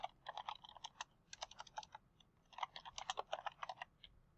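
Quick bursts of keystrokes on a computer keyboard, close and crisp, coming in three uneven runs of rapid clicking separated by short pauses, with no voices.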